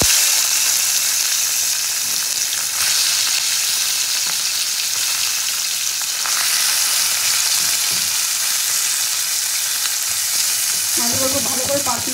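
Fish sizzling steadily in hot oil in a pan, a loud continuous frying hiss throughout with a few faint clinks near the end.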